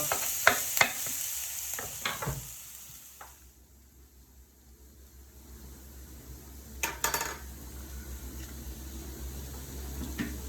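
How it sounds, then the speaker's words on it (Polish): Onions sizzle and crackle in a hot frying pan, with sharp clinks and scrapes of stirring at the start and again later. "Na rozgrzaną patelnię rzucamy sobie w pierwszej kolejności cebulkę, niech nam się posmaża."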